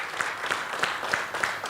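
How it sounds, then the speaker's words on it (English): A round of applause for the panelists at a human rights summit evening session; fairly quiet, distant clapping with a few sharper claps recurring at regular intervals, and no talk over it. "Can we give them one round of applause?"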